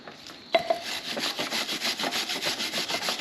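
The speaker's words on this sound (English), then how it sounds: "grab our wire brush" A stiff wire brush scrubs rear brake parts of a Hyundai or Kia with an electronic parking brake back and forth in quick rhythmic strokes, a raspy scratching that continues steadily after a sharp initial knock.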